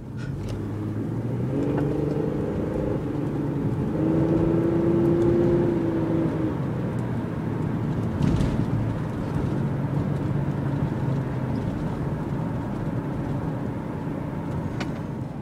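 A 2002 Pontiac Grand Prix GT being driven hard after a Seafoam engine treatment, its engine droning and rising in pitch as it accelerates, with steady road and wind noise throughout and no voices.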